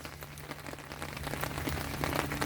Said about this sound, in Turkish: Yine yağmurlu bir gün. Yağmur yağmur üstüne.